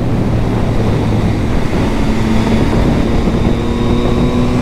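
A Yamaha MT-09 (2022, A2-restricted version unlocked) carrying two people through a series of bends, its engine a steady loud drone with a rising tone and heavy wind rush, close and continuous with no talking.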